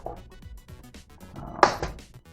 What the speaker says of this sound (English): It's got a jam clearing door on the top.